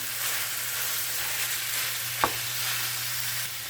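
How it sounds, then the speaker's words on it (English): Ground beef and onions sizzle steadily in a pan for goulash, with a spoon stirring and one sharp tap against the pan midway, no talk. "I'm just going to cook this, you all, until my ground beef is done."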